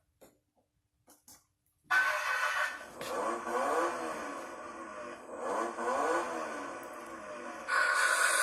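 A few soft clicks, then a ride-on toy car switching on with a steady electric motor whir and hum that swells and dips slightly, continuing close and moderately loud with a brighter surge near the end.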